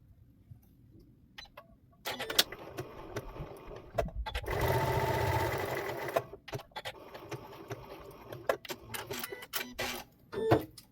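A sewing machine stitches fabric binding for a Shannon Fabrics Bambino Cuddle kit, running in short, quiet whirring bursts between pauses, with a longer steady run in the middle and soft clicks and handling noises around it.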